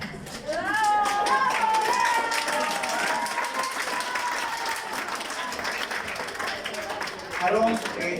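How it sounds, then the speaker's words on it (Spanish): A secondary-school audience of students applauds at a prayer-week service, steady crowd clapping lasting several seconds with voices and cheering mixed in. "Un aplauso a Aarón."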